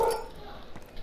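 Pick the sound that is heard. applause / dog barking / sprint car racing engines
dog barking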